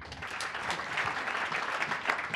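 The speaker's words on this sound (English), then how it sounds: "Big applause." A conference audience gives a short burst of applause at a product talk, a soft, steady patter of clapping that stays fairly faint and even.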